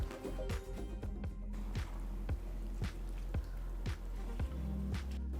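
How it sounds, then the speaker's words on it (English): Soaked basmati rice being gently stirred together with chicken pieces in a pressure cooker for chicken pulao, producing repeated soft wet squishes and scrapes in an even rhythm, close and fairly quiet. "Very carefully just mix the rice along with the chicken pieces."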